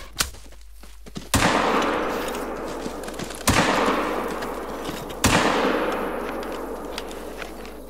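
Three sharp, loud shots at a buffalo from a crossbow in The Hunter: Call of the Wild, on a savanna hunt, each striking hard and then trailing off in a long fading tail. No voices are heard.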